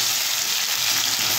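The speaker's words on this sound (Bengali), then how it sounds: "এইভাবে আমি বেশ কিছুক্ষণ ভেজে নেব" Ginger and green chillies fry in hot oil with a loud, close, even sizzle that crackles continuously without a break.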